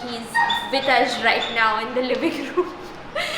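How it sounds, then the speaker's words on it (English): A neighbor's dog indoors in a living room during a home renovation, giving several short barks and whiny yips close by, mixed in with people talking and laughing. "You can hear the dog"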